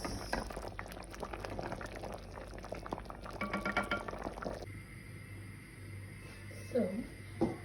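Chicken soup is ladled out of the pot with liquid splashing and bubbling, busy at first and then quieter, with a few sharper splashes near the end and a voice speaking over part of it.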